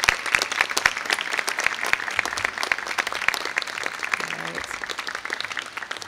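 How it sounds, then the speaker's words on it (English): Nursing graduates at the Fall 2017 ISU pinning ceremony applaud the audience in a hall: steady, moderately loud clapping from many hands, continuous and even throughout. "graduates, give these people in the audience a big round of applause"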